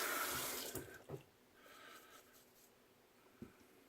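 Tap water runs steadily into a sink for rinsing after a straight razor shave, loudest at the start, then easing to a softer flow with a few small splashes and knocks.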